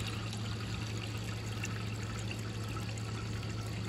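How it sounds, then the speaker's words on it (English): Water pours steadily into a canning pot, a constant close splashing trickle with no pauses over a few seconds. "gonna fill the water up until just below the rings"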